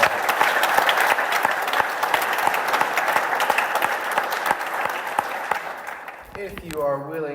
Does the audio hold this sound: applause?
yes